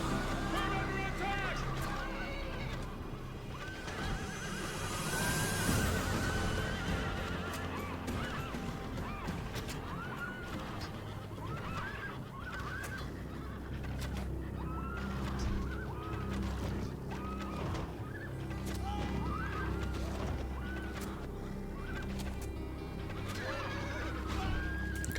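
Cavalry horses neighing during a battle in Rome: Total War, with repeated whinnies and honking calls over a continuous din of fighting and music. Someone speaks faintly at times.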